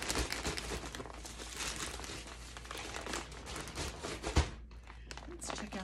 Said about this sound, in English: a little bit of crinkling just to get this unzipped